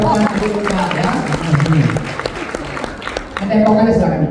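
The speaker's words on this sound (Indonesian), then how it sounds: "Sekali lagi tepuk tangan dong buat Adit Putra ya" A business-sharing audience claps for Frans Adit Putra, a scattered, uneven patter of hands that sits under a person talking loudly nearby throughout.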